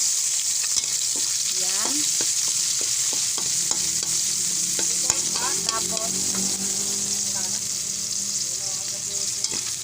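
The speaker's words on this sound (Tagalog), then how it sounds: "Palalambutin muna natin yung pork na ipinirito natin mga kakusin. Kaya igigisa muna natin siya." Fried pork being sautéed with garlic in a pan for Filipino pork adobo, with a steady loud sizzle and repeated stirring scrapes throughout; a brief word is spoken near the start.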